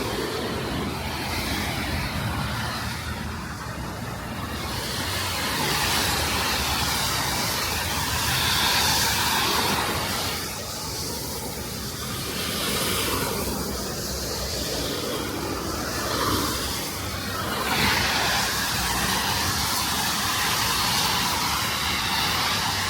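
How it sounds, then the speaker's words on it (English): Street traffic along the South Brooklyn waterfront in New York City, a continuous broad rush and hiss of passing vehicles that swells and fades over about twenty seconds, with no one talking. "Looks like traffic's picking up a little bit."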